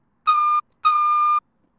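Two steady, shrill blasts of a train whistle in the SubwaySim Hamburg game, a short toot followed by a longer one, loud and alone with no talk.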